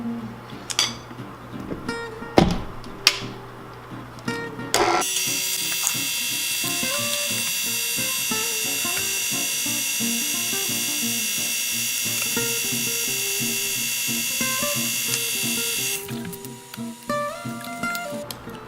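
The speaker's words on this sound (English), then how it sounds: "beat this on low for a few minutes, just until everything is blended really well" An electric hand mixer beats keto peanut butter chocolate cheesecake batter on low, giving a steady, loud mechanical whir with a faint rattle that runs unbroken for about eleven seconds before stopping, with some brief kitchen clatter before and after.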